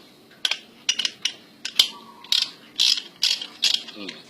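A ratchet wrench with a 12 mm socket loosening bolts on a motorcycle exhaust, producing about ten short, crisp clicking bursts of the pawl in an uneven rhythm, close by and fairly quiet.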